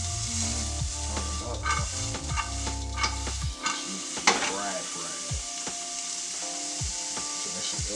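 Sliced onions sautéing over medium-high heat in a pan for a vegan bratwurst hoagie, a soft continuous sizzle with occasional stirring scrapes and knocks, close by, with low music running underneath.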